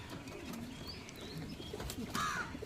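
Pigeons, including fancy-eyed Madras pigeons, coo softly at close range with a few chirps and rustles over a low background murmur.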